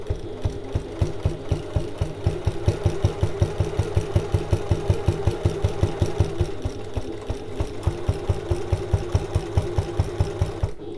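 A domestic sewing machine stitches fabric for a bag, starting with the needle down, in a fast, even, continuous chatter of rapid rhythmic beats, close and steady throughout.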